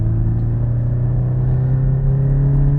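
A Toyota GT86 with a Miltech exhaust cruising along, heard from inside as a steady, loud, low droning engine hum with even exhaust rumble and no break in tone.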